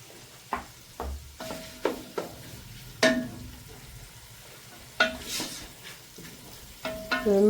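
Sliced onions browning in a pan, with a series of distinct scraping stirs and spoon knocks spaced about every half second to second over a soft sizzle, close and moderately loud, no talking.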